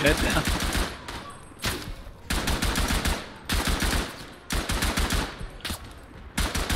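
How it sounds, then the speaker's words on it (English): A machine gun fires in the WWI game Tannenberg on the Eastern Front, in loud sustained bursts of rapid shots separated by short pauses, with other gunfire mixed in. "I'm gonna use this fucking machine gun"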